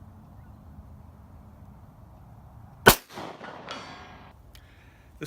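A Walther PPQ pistol fires a single sharp, loud shot at a steel target 150 yards away, followed by a faint, delayed metallic ring from the distant steel over a quiet outdoor background.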